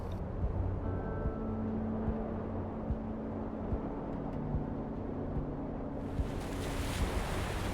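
Waves and surf wash along the rocky coastline of coves near Otaru, Hokkaido, a continuous broad rush with wind buffeting the microphone and no voices.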